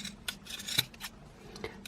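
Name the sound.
scissors trimming crochet yarn pom-pom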